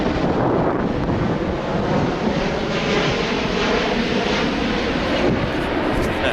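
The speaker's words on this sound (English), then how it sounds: "How many planes is that so far that flew by?" An airplane flies overhead near a rural spot where rabbits are about, a loud, steady engine roar that fills the whole stretch and mixes with wind buffeting the microphone.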